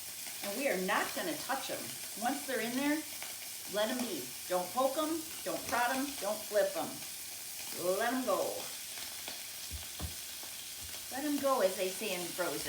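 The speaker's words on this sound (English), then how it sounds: "They're sizzling. You hear it. That sear, that pop" Scallops searing in a hot pan give a steady sizzle with small pops, running continuously beneath a person talking close by.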